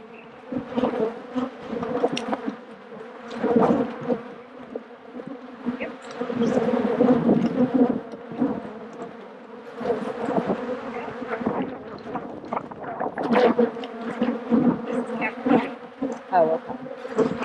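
Honey bees buzz continuously and loudly during a beekeeping hive inspection, a dense droning swarm close by with swelling and fading bursts throughout, and no talking.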